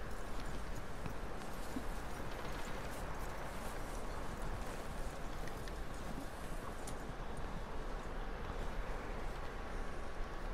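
Horse hooves clip-clop steadily in the video game Red Dead Redemption 2, partly buried in a dense, constant wash of background noise.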